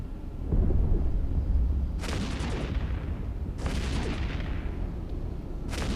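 Barrage weapons firing in the space game EVE Echoes during cruiser combat: a steady rumble of booming gunfire with repeated sharp volleys bursting in at regular intervals, loud and continuous.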